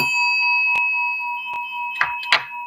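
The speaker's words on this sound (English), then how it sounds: "I'll just ring my little bell here again." A small hand bell rings with sustained bright tones that linger through the clip, struck again a few times with sharp clanging rings near the end; no speech.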